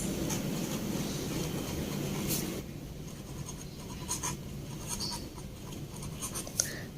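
Marker or chalk scratching across a board during an accounting lesson, a continuous close scraping texture with occasional small taps and a faint background hum, no talking.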